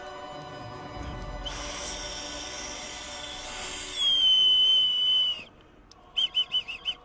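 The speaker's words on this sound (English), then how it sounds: "Maybe I'm just crappy at whistling" A Batman-themed plastic toy whistle from a kids' meal is blown close up, giving a long, shrill, wavering tone for several seconds, then a quick series of five short toots.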